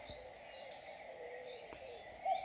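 Faint birdsong in a meadow beside a forest: soft, steady chirps and trills continue quietly throughout, with no voices.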